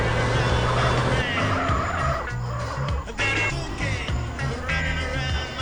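Car engine in Grand Theft Auto: San Andreas droning and revving with tire skids, loud and continuous under game music, with a voice talking briefly.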